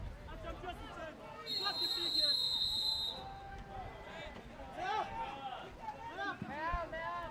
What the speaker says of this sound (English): Whistle's gone.